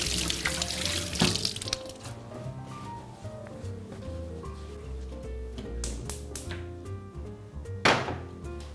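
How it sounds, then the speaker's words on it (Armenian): Cold water splashes and pours into a cooking pot, a continuous watery rush with a few clanks of the pot, loud and close, with no one talking. "Վերան լցնենք սառը ջուր և դնենք կրակին։"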